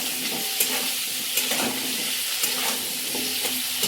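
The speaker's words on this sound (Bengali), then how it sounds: "তো বন্ধুরা কাঁঠাল দিয়ে দিচ্ছে ইঁচড়। তো এটা হালকা ভেজে দিবে।" Potatoes and young jackfruit frying in hot oil in a village kitchen, a steady close sizzle with periodic stirring scrapes and clinks throughout, no voices.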